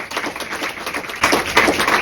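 An audience applauds: a short burst of dense clapping, fairly close, swelling louder in the second half with no talk over it.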